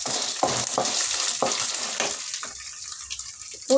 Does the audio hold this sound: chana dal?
yes